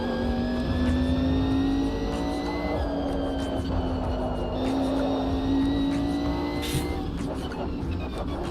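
Mercedes race car engine in a racing video game, revving steadily with pitch shifts between gear changes, loud and continuous on its own.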